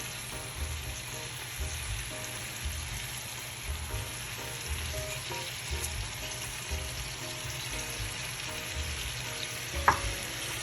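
Fresh onions frying in a pan with oregano and pepper, a continuous low crackling sizzle with scattered stirring scrapes and one sharper knock near the end.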